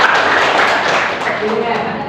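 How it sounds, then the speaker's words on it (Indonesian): An audience claps briefly during a classroom presentation, a short burst of close, dense clapping with voices under it. "beri tepuk tangan Nisa."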